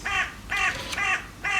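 Crows caw in four loud, harsh bursts spaced about evenly apart, close by and heard alone without any talk, a dawn chorus of waking birds.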